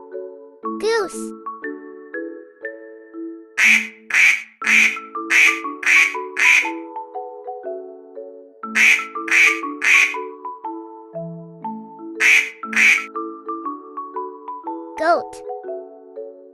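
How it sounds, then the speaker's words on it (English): A cartoon goose honks in two quick bursts of several calls and then a shorter burst, loud and bright over a playful children's tune. "goose."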